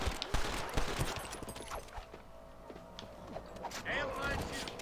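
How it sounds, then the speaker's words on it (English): Gunshots crack in scattered bursts during a horseback shootout in Red Dead Redemption, with hooves and a horse's whinny mixed in and people talking over the fire. "Damn fine shooting, boys."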